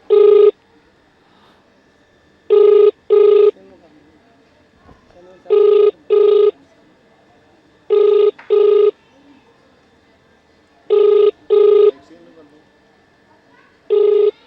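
An outgoing telephone call rings unanswered, giving loud double-pulse ring tones that repeat about every three seconds, with faint hum in the quiet gaps between them.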